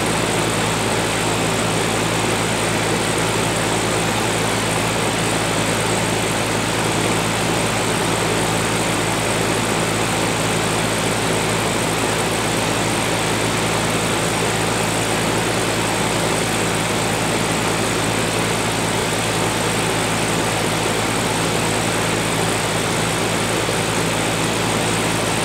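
An air conditioning unit that has been icing up runs steadily with a constant broadband whoosh and low mechanical hum, loud and unchanging throughout, with no voices.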